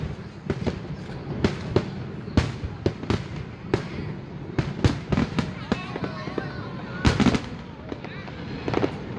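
Fireworks bursting over Saigon in an uneven run of loud cracks and booms, some in quick clusters, with spectators chatting faintly between the explosions.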